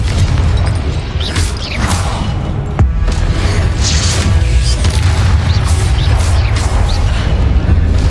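Repeated Confringo fire-spell blasts in the Hogwarts Legacy video game, heard as dense, continuous booming explosions and crackling impacts that run loud throughout with no pause.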